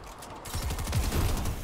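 Gunfire in the video game Fortnite, a quick burst of several rapid shots following one another over about a second, moderately loud with no talk over it.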